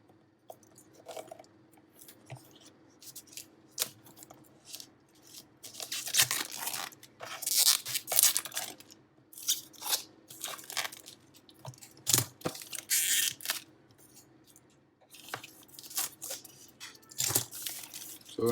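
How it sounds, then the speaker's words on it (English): Plastic wrap is cut and pulled off a DJI Osmo Mobile 3 gimbal box, giving close, irregular crinkling, tearing and rustling bursts that come and go, with quiet gaps between them. "So let's cut the plastic over here."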